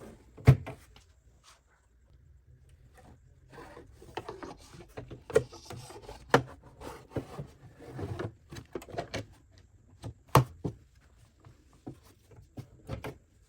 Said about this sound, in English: we're going to take the hoop off of the machine